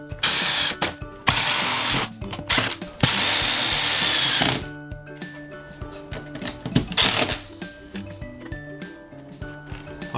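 A power drill drives screws into a window frame during a bus conversion into a tiny house, with loud whirring bursts broken by short pauses, then quieter ratcheting clicks and a final short burst, close by and without talk.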